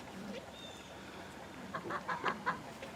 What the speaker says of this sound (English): waiting in the wings are chickens.